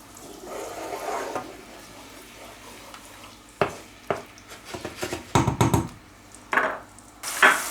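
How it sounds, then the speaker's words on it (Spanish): White wine reducing in a hot pan sends up a soft, steady sizzle, broken by sharp clanks and scrapes of a utensil against the pan. "un poco de vino blanco. Y esperamos otra vez a que reduzca"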